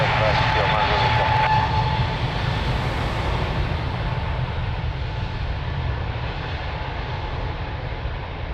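Aircraft at Lisbon Airport, a loud sustained engine roar close by that slowly eases off, with a faint tonal whine and radio-style voices under it.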